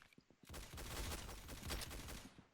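A rapid burst of laser rifle fire from Roblox Arsenal crackles in a dense, continuous volley lasting a couple of seconds, loud and close.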